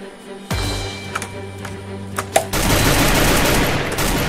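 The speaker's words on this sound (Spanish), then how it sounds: "¡Ojo! ¡Me disparan de atrás!" Rapid automatic gunfire erupts in the Free Fire battle royale game, with a few sharp single shots first, then a loud, sustained burst of continuous fire from close range.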